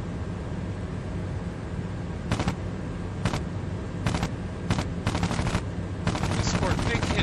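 Aircraft machine guns firing during a strafing run on desert artillery positions in IL-2 Cliffs of Dover, North Africa: several short, sharp bursts, then a longer rattling string near the end, over a steady engine drone.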